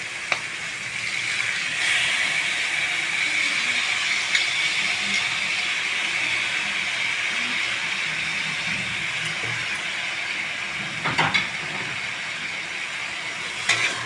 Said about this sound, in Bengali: এবারে দিয়ে দেবো আমি করা কচু শাক